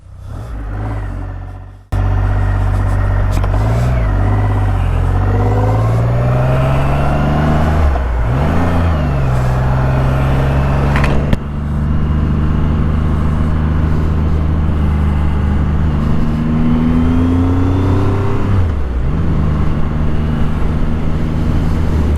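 Triumph Rocket III motorcycle engine while riding on the road, a deep throbbing drone that repeatedly climbs and drops in pitch through gear changes, loud and continuous after a short quiet start.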